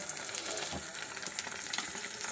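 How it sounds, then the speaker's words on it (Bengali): An egg frying in a pan gives a steady, soft crackling sizzle that runs throughout at low volume, with no talk. "ডিমটা তাড়াতাড়ি করে ভেজে নিচ্ছি"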